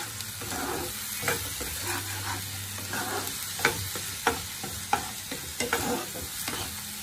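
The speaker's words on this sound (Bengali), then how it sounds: "লবণ, জিরা আর চিলি পাউডার দিয়ে ভালো করে মিক্স করে নিন।" Salt, cumin and chili powder frying in a pan for a prawn curry, a loud close sizzle broken by repeated scraping stirs and spatula knocks in an irregular rhythm.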